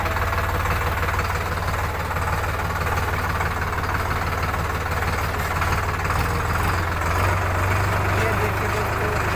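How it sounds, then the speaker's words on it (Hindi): A Sonalika Sikander RX 35 tractor pulling a fully loaded trolley chugs loudly and steadily throughout, a dense, rumbling diesel drone that never lets up. "ये आप देख सकते हैं ये मैं ट्रैक्टर चला रहा हूँ"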